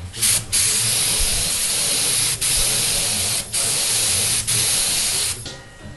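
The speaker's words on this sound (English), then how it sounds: "Sorry about that compressor." Air compressor running while lacquer is sprayed onto a 1965 Grammer guitar, a steady loud hiss broken by several brief pauses, with no talk.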